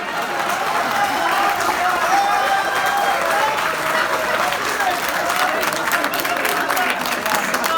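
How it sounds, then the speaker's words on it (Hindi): A live audience at a Hindi comedy poetry gathering in Agra claps loudly and continuously for several seconds, a dense wash of applause with crowd murmur and some voices underneath. "ये ऐसी पहली बात थी जिस पर एमडी साहब ने भी ताली बजाई।"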